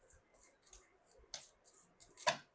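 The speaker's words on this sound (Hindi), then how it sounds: "आपके सामने ही शफल कर रही हूँ मैं इसे" A tarot card deck is shuffled close by, giving a quiet, rhythmic series of soft riffling flicks and papery slaps about every quarter second, with no talk.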